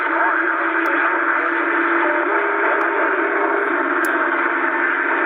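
A QT 60 CB radio on channel 5 hisses with steady receiver static while its noise reduction circuit is switched on, a continuous band-limited rush at constant loudness with a few faint clicks.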